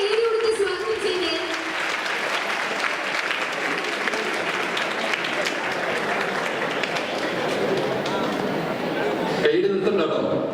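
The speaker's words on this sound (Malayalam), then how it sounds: "നല്ലൊരു കൈയ്യടി കൊടുത്ത് സ്വാഗതം ചെയ്തേ" A college audience at Nirmala College, Muvattupuzha claps to welcome the principal onto the stage, a dense, sustained burst of applause that fades abruptly near the end.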